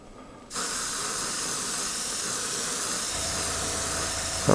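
Steady airbrush hiss spraying paint onto a BT-7 tank model, kicking in after a brief quiet start and holding a constant close airy rush throughout.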